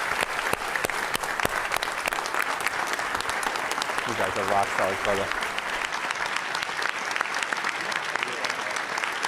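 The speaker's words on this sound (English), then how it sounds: "could you please join me in a round of applause for these individuals?" Audience at a school board regular meeting breaks into loud, sustained applause and clapping that fills the room, with a voice speaking briefly over it midway.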